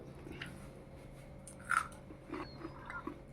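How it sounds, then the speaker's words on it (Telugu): Crunchy masala pakodi being bitten and chewed up close, with a few brief, crisp crunches standing out over a faint, quiet background and no talking. "పకోడీ తిని చూపిస్తాను"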